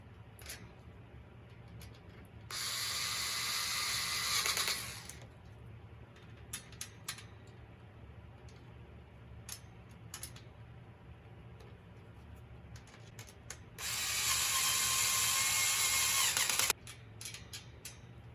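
A power screwdriver driving screws into an Auledio 3-tier shoe rack during assembly, two separate bursts of a few seconds each with quiet handling clicks and taps between them.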